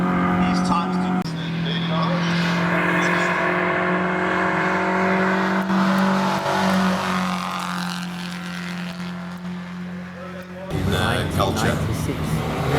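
A 1996 Nissan Sentra race car on a hillclimb run drones with a sustained engine note whose pitch shifts as it climbs and changes gear, while an announcer talks over it.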